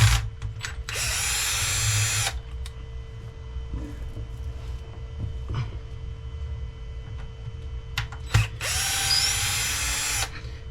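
A power drill backs out the screws on the differential cover of an Arrma Limitless V2 RC car, two loud high whining bursts of about a second and a half each, separated by clicks and small handling noises, close up.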